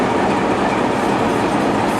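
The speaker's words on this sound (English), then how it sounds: "The station master's all ready to dispatch the train." Steady rumbling of a train at close range at Tenterden Town Station, a heritage railway, with continuous rolling wheel noise and a faint clickety-clack, constant and loud throughout.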